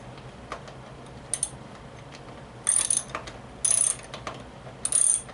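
A ratchet tightens a fastener on a pinball machine playfield in four short bursts of rapid clicking, close by and fairly loud, separated by quieter handling noise, with no talking.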